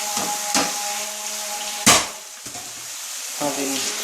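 Cauliflower and potatoes with spices sizzle in a pan, a steady frying hiss broken by a few sharp clatters and scrapes of a spoon stirring against the metal.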